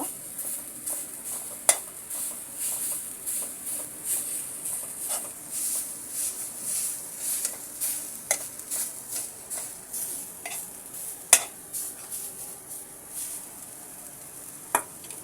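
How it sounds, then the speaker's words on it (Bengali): Fried jute leaves are stirred in a pan with a utensil, giving rhythmic scraping strokes and occasional sharp metallic clinks over a light sizzle, close and without voices. "আমি আরো বেশ কয়েকবার পাটের শাকটা নেড়ে দিয়েছি"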